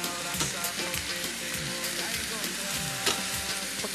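A sloppy joe mixture sizzles loudly and evenly in a pan as cumin goes in. Scattered stirring clicks and scrapes sit over the frying.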